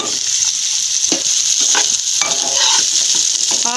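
Mashed onions sizzle steadily in hot ghee in a frying pan, a loud, close hiss with occasional scraping stirs and light clinks of the utensil against the pan.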